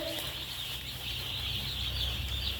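Two-day-old chicks feeding on paper in a brooding house give faint, steady high peeping over a constant low hum, with no talking.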